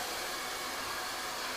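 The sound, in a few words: hair blow dryer running on high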